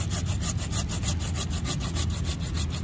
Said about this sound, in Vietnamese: Em cưa thử cây mai cho anh chị xem ha